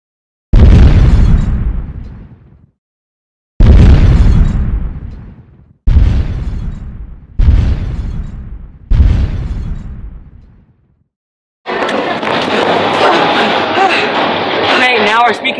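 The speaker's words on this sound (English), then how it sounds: "Now our speakers are blown up." Five loud, booming blasts from speakers blowing up, each decaying over a second or two with pauses between, followed by a sustained crackling, distorted roar of noise.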